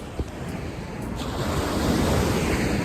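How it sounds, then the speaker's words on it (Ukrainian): Atlantic surf on the Basque coast of Spain rumbles steadily and grows louder, with wind buffeting the microphone throughout. "Там позаду мене океан."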